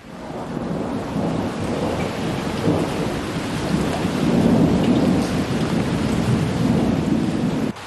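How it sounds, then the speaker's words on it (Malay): Steady heavy rainfall with rolling thunder, a dense continuous wash that swells louder midway, close and dominant with no voices. "Hujan pula tadi."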